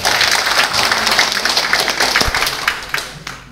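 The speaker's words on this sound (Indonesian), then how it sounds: "Kita berikan aplaus yang lebih besar" A crowd at a doctoral promotion ceremony breaks into loud, sustained applause, a dense wash of clapping close by that fades slightly near the end.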